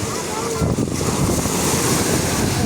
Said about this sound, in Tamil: சரியான அலை அடிக்குது.